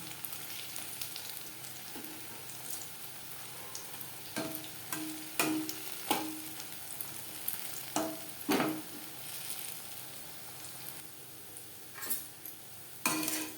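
Onion and cabbage pakora, made with tomato, fry in hot oil under a quiet, steady sizzle, broken by occasional sharp clinks and scrapes as the fritters are turned until crisp.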